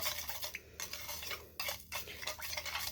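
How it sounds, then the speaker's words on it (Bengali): A spoon stirs sugar into water in a cup or pot, giving rapid scraping and clinking strokes in an uneven rhythm with brief pauses, close and fairly quiet. "চিনিটা কিন্তু ভালোভাবে গুলিয়ে নিতে হবে।"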